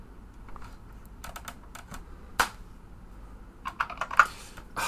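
Typing on a new computer keyboard: irregular bursts of crisp, clicky keystrokes, fairly quiet and close, with brief pauses between runs and a few sharper key hits.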